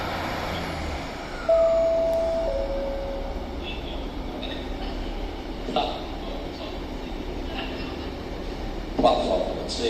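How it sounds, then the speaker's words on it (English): A Northern diesel service pulls out of Stockport station on the West Coast Main Line with a low rumbling engine and a thin sustained squeal, while voices sound in the background. "Departing now was the 10:47 Northern service to Manchester Piccadilly from Buxton"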